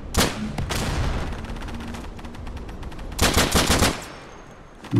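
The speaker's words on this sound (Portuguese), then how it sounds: "Acho que meus amigos estão atirando aqui." Machine gun fire rattles through a World War II shooter set in France in 1944, with sustained bursts of rapid automatic shots over the first few seconds and a second loud, dense burst near the end.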